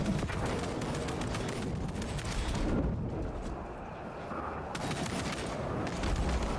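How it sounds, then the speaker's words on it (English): In the Warhammer 40K: Space Marine II video game, sniper fire and other gunfire crackle in dense, rapid bursts that blend into a loud, continuous barrage, briefly easing mid-way before resuming. "Did I get sniped? What shot me?"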